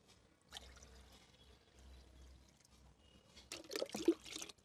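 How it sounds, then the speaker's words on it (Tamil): Water poured slowly and gently into a small homemade nano tape fish tank, a faint trickle and splash in short bursts, quiet at first and then a brief louder gush near the end. "இதில் தண்ணி கொஞ்சம் கொஞ்சமாக ஊற்றிக்கிறேன்."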